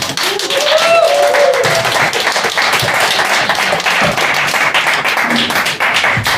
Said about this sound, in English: big round of applause for a great comedian, Socrates